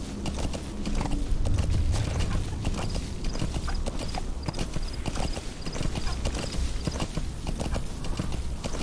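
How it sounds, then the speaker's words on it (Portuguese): Horse hooves clip-clop in a brisk, steady rhythm during Metal Gear Solid V: The Phantom Pain gameplay, mixed with game sounds and faint mechanical noises, with no talk over it. "Só apenas um cavalinho."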